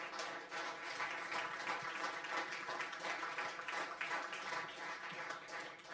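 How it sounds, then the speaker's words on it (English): Very faint, steady applause from an audience welcoming a guest speaker at a FIFA Ultimate Team event, a continuous wash of clapping with no voices. "A round of applause for Alex Grimbley"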